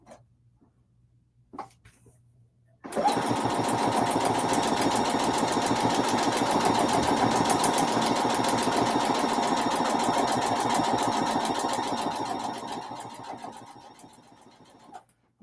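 Sewing machine stitching foundation paper piecing, starting after a quiet moment and then running as a steady, fast mechanical whir for about ten seconds before slowing down and stopping.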